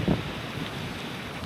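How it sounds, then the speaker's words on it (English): Strong wind roars across a coastal camp during Storm Isha, a steady broadband buffeting of the microphone with a louder gust at the start, close and continuous with no voice over it. "apologies if you can't hear me because of the wind"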